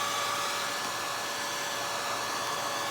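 A hair dryer blows steadily on an ink drawing, a constant loud whooshing hiss with no breaks and no talking.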